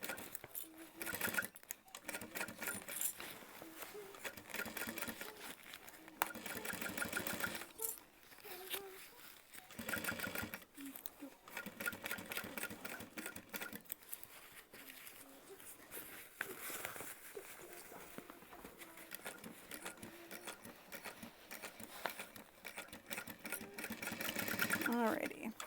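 A sewing machine stitches an Emma backpack in long running bursts with short pauses, a steady close mechanical whir that continues under occasional talk.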